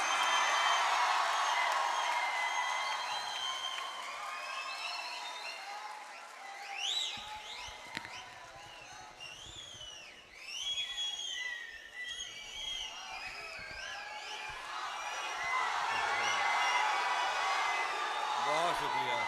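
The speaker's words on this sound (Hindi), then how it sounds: "आपकी सीटियां मुझ तक पहुंच गईं और आपकी तालियां भी पहुंच गईं।" Live audience at a Hindi-Urdu poetry recital by a poet breaks into sustained applause with sharp whistles rising over it, a dense crowd roar that swells at the start and end, while a voice speaks over the clapping.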